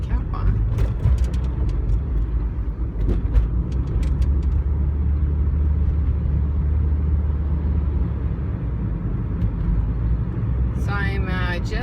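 A car cruises steadily along the 10 freeway past Delmar, its road noise a constant low rumble throughout, with a brief voice near the start and a faint chirp of speech-like sound near the end.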